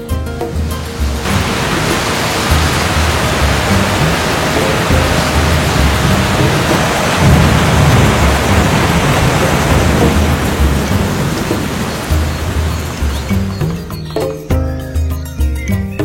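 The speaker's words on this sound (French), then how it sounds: "la saison des pluies arrive" Heavy rain pours steadily during the rainy season in Malawi, a loud dense roar with thunder rumbling underneath, continuous for most of the stretch before easing into quieter dripping near the end.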